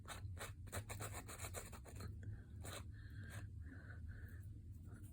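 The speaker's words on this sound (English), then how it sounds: "Just sanding it ever so slightly to get some of these bumps out." Quiet rhythmic rasping as a paper tag is sanded back and forth in short strokes, close and soft over a low background hum.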